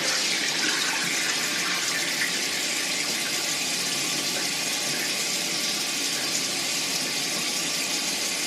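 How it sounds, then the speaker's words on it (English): Tap water runs steadily into a sink for washing hands and face, a close, even, continuous rush with no break throughout. "We just want to start step one, wash your face. After you wash your hands,"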